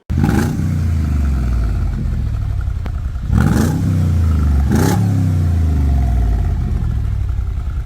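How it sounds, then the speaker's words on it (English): A Mercedes G55 AMG engine idling with a deep exhaust rumble, punctuated by two sharp revs that rise and fall quickly. "The exhaust of this car is excellent."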